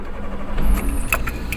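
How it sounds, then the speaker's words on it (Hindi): A manual car in neutral starts with a turn of the ignition key, a brief jingle of keys and a starter crank followed by a low engine hum, close and alone with no talking. "ये गाड़ी स्टार्ट हो गई।"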